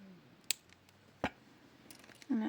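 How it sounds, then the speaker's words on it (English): Wire cutters snipping excess jewelry wire after a crimp while making a fish-themed necklace, two sharp close clicks about a second apart, then a brief soft rustle, with no talking. "Now that that's crimped, I can go ahead and snip my excess wire."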